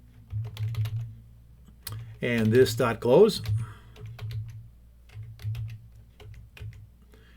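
Computer keyboard clicks in short, uneven bursts while code is typed, fairly close and soft, with someone talking over part of the typing.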